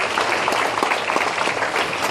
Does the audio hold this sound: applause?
yes